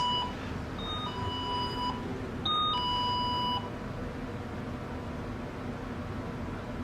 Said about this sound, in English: if we're walking anywhere in this building and we hear that sound, that means that something has passed this motion detector